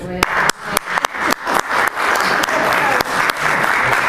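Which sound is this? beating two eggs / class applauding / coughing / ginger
class applauding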